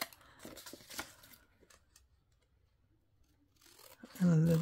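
Scissors cutting paper for a junk journal: a few close snips and rustles early on, quiet between, then a loud burst at the end, with some talking in the background.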